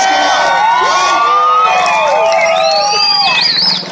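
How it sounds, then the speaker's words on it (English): A crowd at a street stunt show in Reno cheers loudly, with shrill whoops, shouts and whistles layered over a continuous roar for the whole stretch. "Hey, big round of applause, only in Reno"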